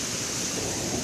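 Thunder from a nearby strike during a summer thunderstorm, a loud, dense rumble that fills the whole short moment with no pause, mixed with heavy rain noise.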